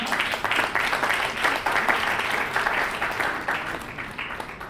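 Sustained audience applause fills an awards ceremony hall, a dense, steady wash of many hands clapping at close range that continues without a break and tapers slightly toward the end.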